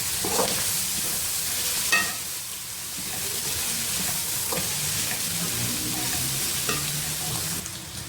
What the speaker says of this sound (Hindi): चिकन का 1 क्यूब इसमें डालूँगी और मैं इसको करूँगी अब अच्छी तरह से मिक्स